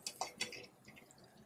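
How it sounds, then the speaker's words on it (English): Butter with a little oil bubbling in a hot frying pan, giving faint, quick crackling pops and sizzles close up, with no talking. "And right now the butter is bubbling."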